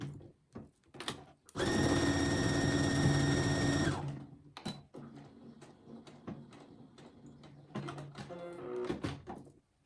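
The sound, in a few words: sewing machine stitching a straight seam on fabric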